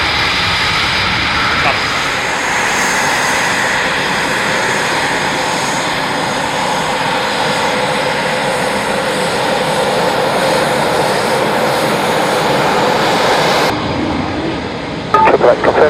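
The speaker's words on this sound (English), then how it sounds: "clear for takeoff, surface wind 220 degrees, 10 knots." Fixed-wing aircraft departing at an airshow, a loud, steady engine roar holding close for the whole span, then cutting off sharply near the end, with a radio voice heard over it.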